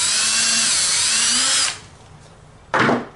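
A power drill whirs loudly and steadily while working on a 2007–2013 Chevy Silverado center console cover. It winds down and then gives one more short burst.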